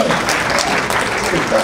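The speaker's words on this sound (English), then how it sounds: "There are two people are clapping." Light, close clapping during a church sermon, brief and steady, heard alone without talk.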